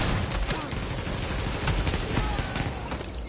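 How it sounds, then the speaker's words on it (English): Rapid bursts of gunfire crackle through a shooting video game, dense overlapping shots that stay loud and continuous throughout. "Why are you shooting at me, man?"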